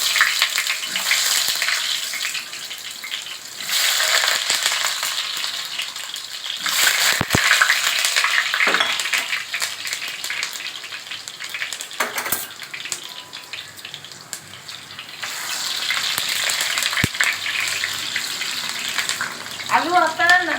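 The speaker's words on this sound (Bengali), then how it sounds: "এবার আমি 3 পিস আলু ভেজে নিচ্ছি।" Three potato pieces frying in oil in a kadai while Jodhpuri chicken is prepared, a loud, broad sizzle that swells and eases in waves, with a few sharp utensil clicks and a brief voice near the end.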